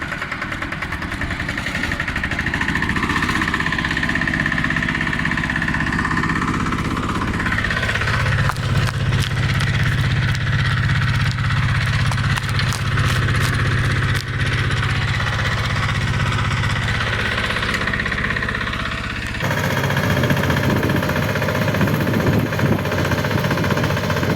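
Yanmar walk-behind tractor engine running in second gear, a loud, steady, close mechanical drone with knocking, chattering pulses that shift in pitch midway through.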